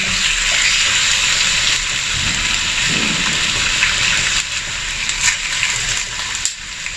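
Chicken pieces fry in a pan with sesame oil, giving a steady, close hiss and crackle that continues evenly throughout with no voices.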